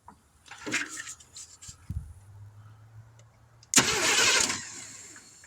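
Some clicks and a brief low crank, then the engine of a 1971 Chevrolet C10 truck that sat for decades suddenly catches and roars to life, running loud and rough afterward.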